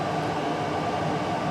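A passenger train running late through Yorkshire near Burley-in-Wharfedale gives a steady, loud rushing rumble with broadband rail noise and no distinct events, heard close by.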